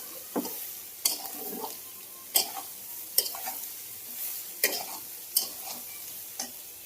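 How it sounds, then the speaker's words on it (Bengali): Soybean chunks frying with turmeric in hot oil in a pan, a steady sizzle punctuated by sharp, regular clinks of a spatula stirring against the pan. "সোয়াবিনটা দিয়ে দিলাম। সেলাইতে একটু হলুদ দিয়ে দিলাম কালারটা আসার জন্য। ভেজে নেবো সুন্দর করে।"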